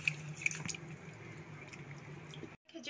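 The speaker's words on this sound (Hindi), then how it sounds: "प्रथमे चाउल और मुग को मु भल भाव में धोई दूची।" Rice and moong dal being washed in water, with close, soft drips, squishing and sloshing under a low steady hum, ending in a brief silence before more handling.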